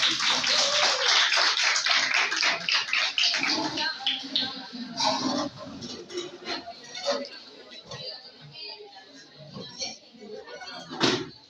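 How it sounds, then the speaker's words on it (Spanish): A classroom of students claps in welcome for a new classmate, a dense burst of many hands near and loud at first, thinning into scattered claps with a teacher's voice talking over them. "Dale un aplauso."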